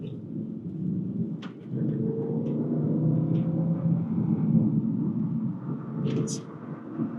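A 2002 Ford Thunderbird convertible accelerates on a street. A steady low engine rumble builds over several seconds, mixed with wind noise, and a few faint clicks sit on top.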